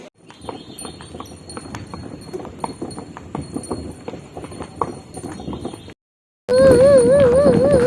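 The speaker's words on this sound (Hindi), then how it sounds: "हम चल रहे हैं घोड़ा गाड़ी में" Horse hooves clip-clop steadily on a road as a horse-drawn cart carries passengers near Sakoti village, the hoofbeats moderately close under faint background noise, then a brief silence gives way to a loud warbling tone.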